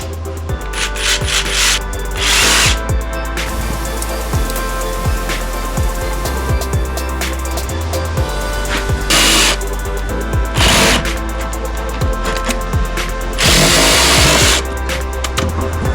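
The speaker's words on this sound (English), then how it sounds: "For these cuts I'm gonna be using a jigsaw." A jigsaw cuts floor boards in a forest workshop build in Tasmania, buzzing loudly in short bursts separated by brief pauses, close and with no speech.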